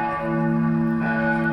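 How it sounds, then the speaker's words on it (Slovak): All the bells of St. Martin's Cathedral in Bratislava ring together outdoors in a dense, sustained festive peal, their layered tones overlapping steadily without pause. "Pustili všetky zvony."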